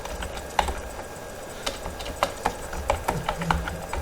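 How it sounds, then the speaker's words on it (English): Typing on a computer keyboard while entering a sample letter in a word processor, with irregular clicking keystrokes at close range against a faint background hum. "so just I am typing one dummy letter."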